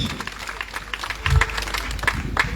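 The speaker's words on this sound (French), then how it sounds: "Un peu d'applaudissements, en tout cas des applaudissements." Applause from an audience at a memorial tribute for Cédric Cornet, a soft, diffuse patter of clapping with a few sharper claps standing out, moderately distant.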